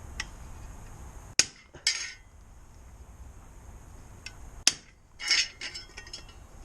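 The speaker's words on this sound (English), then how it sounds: "We're going to punch these holes now" Metal for Lamborghini Countach-style doors is struck with a hole punch: two sharp, loud metallic hits a few seconds apart, each followed by lighter clinking and handling noises in a quiet workshop.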